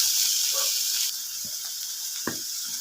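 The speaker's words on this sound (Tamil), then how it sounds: "நல்லா வதங்கட்டும்." Tomatoes sautéing in a frying pan for murungai keerai (drumstick leaf) kulambu: a steady sizzle hisses, with a few soft scrapes and taps of stirring, close and fairly quiet.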